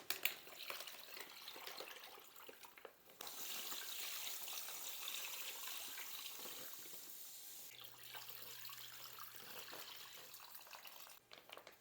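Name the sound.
water pouring into a bag to cover a brining turkey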